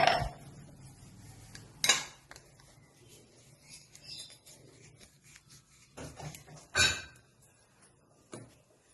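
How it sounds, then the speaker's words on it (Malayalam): Eggs for a vegetable cheese omelette beaten in a bowl, quiet rubbing and whisking punctuated by a few louder clinks of utensil against the bowl, close and without talk. "മുട്ട നന്നായി അടിച്ചെടുക്കണം."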